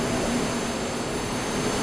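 Airliner jet engines roaring at full thrust during a takeoff roll toward rotation, a steady loud broadband rush with no pauses and no voices.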